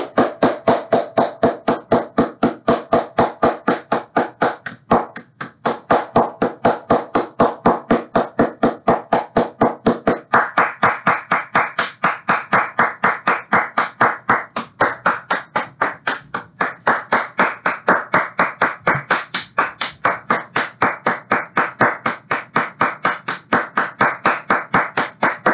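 A steady, rapid run of hand claps at an even rhythm goes on without pause, loud and close, at a football game watch.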